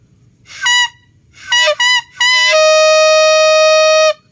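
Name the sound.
homemade coconut leaf horn blowing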